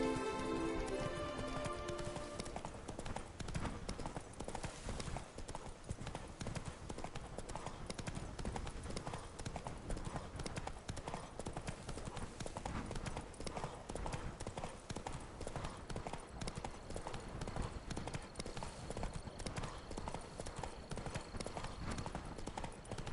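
Roach the horse's hooves clip-clop steadily along in The Witcher video game, a continuous close trotting rhythm over game music and ambience, with a brief voice near the start.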